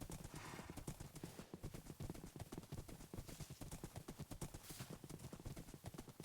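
Horse hooves trot in a steady, quick clip-clop rhythm while a horse is ridden in the Minecraft video game, loud and continuous with no voices.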